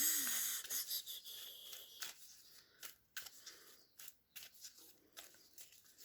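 Tarot cards being shuffled by hand make a quiet run of soft, uneven flicks and taps, heard close against near silence.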